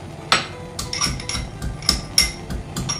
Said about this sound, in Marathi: मी तो अंदाजे एका कांडीचाच घालेल आणि याच्यामध्येच कुटून घालेल तो खलबत्त्यामध्ये